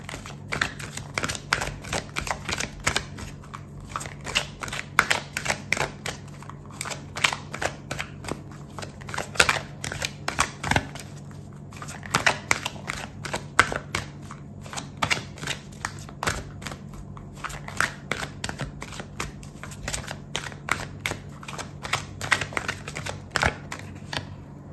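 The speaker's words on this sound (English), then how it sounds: "I'm gonna pull out another card for you" Tarot cards are shuffled and drawn during a love reading, making a long run of crisp, rapid clicks and flicks in irregular bursts, close and fairly quiet, with no talk.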